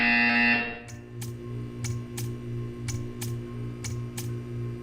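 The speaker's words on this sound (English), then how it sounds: "You will hear a buzzer." A buzzer in the video game Portal 2 gives a long harsh electronic tone, then a rapid series of sharp regular clicks or ticks over a steady hum.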